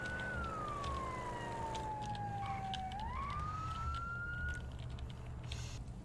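A police car siren in a roleplay video game, heard as a loud wailing tone that sweeps slowly down and then back up over a constant engine rumble, with no talking.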